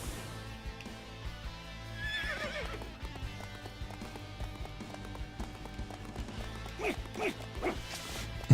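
A horse whinnies, with galloping hoofbeats and battle sounds in the Warriors Orochi video game, heard fairly faintly under a game soundtrack.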